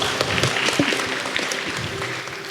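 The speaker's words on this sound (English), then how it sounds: "A round of applause to everyone" Applause from a full-house audience at a hybrid science program event, a steady patter of claps filling the room at moderate level, with faint voices underneath.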